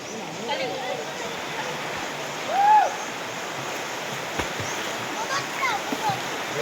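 River water flows steadily with a constant rushing wash during a riverside birthday gathering in the province, with occasional splashes and a brief voice cry over the moderate, continuous stream.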